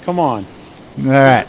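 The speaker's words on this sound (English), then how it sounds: "that's the crickets there." Crickets keep up a steady, high, continuous chirping through the whole stretch, with two short bursts of nearby speech on top of it.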